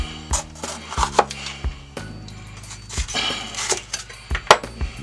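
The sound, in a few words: knife cutting a bell pepper into julienne slices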